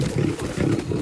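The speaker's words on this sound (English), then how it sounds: "This lion is a huge male" An aggressive adult male lion at a big cat sanctuary lets out a deep, loud, close-up roar, a rough guttural rumble filling the short moment on its own.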